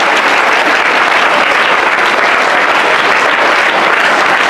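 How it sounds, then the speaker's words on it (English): A school audience at a Gandhi Jayanti and Lal Bahadur Shastri Jayanti celebration claps loudly and continuously, a thick, even wash of many hands with no pauses. "Give clapping."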